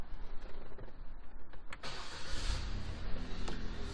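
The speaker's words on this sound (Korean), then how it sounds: "자 실내에 타서 시동 한번 걸어 볼게요" A used Chevrolet The Next Spark city car starts from inside the cabin: a quick cranking burst catches into a steady, close engine idle that runs on to the end.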